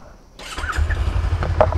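After a brief near-silence, a Suzuki GSX250R motorcycle engine catches and settles into a close, low, throbbing idle rumble that runs steadily to the end.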